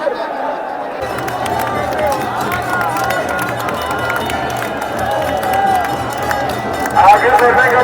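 A dense festival crowd at Masan Holi in Kashi, held back by police, produces a continuous roar of chatter and shouts with a rise in cheering near the end, under close talk.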